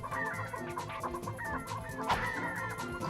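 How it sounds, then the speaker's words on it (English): A flock of video game chickens in Ratchet & Clank, former Gadgetron employees, cluck busily and overlapping, with repeated close squawks over a low game background. "That's a lot of chickens."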